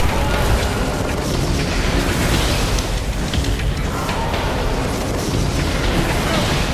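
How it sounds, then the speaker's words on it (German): A Taken enemy blowing up in the sci-fi shooter Destiny: The Taken King, heard as a loud, continuous roar of blast and fire noise that fills the whole stretch without letting up. "ich weiß genau, dass du explodieren willst, wenn du da bist"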